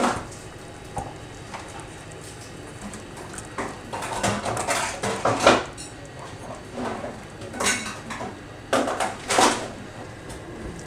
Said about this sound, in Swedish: Så silar jag över det till en annan kastrull.